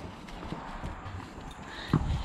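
A horse on a cattle ranch walks nearby, its hooves making soft, irregular clip-clops with a heavier thud near the end, over faint outdoor background noise.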